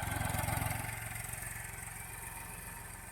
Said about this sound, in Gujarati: તો આવી ગયું છે ટ્રેક્ટર આપણું જોવા વાવણીનું.